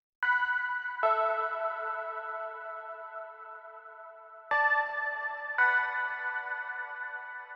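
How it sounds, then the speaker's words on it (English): A glo-fi pad preset in the Massive synth plays soft, bell-like two-note synth dyads for a retrowave arrangement. Four sustained chords change one after another, each with a clear attack and a slow fade, clean and isolated with no talking. "synth dyads, and they sound like this by themselves."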